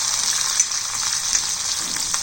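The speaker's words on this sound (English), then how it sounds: "green chili, and saute this" Green chili sautés in a hot pan with ginger and garlic for palak paneer, producing a constant close, bright sizzle with faint stirring underneath.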